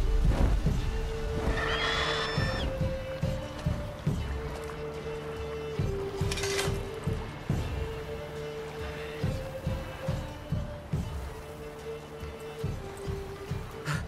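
A horse whinnies once in The Witcher 3, rising and shrill, over steady low droning music with repeating notes and periodic soft thumps.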